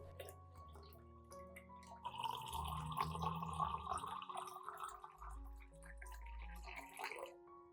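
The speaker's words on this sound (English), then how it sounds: "Then add 500 milliliters of water at room temperature." Room-temperature water poured into a cup or jar holding three tablespoons of rice, a faint close trickling and splashing that swells in the middle and tapers off near the end.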